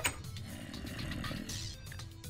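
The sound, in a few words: snoring mobs in the video game Minecraft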